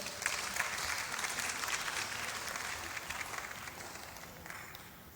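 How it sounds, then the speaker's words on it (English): Faint, distant applause fills the hall at a closing and awards ceremony, a steady wash of many hands that slowly tapers off toward the end. "Please, let's applaud them."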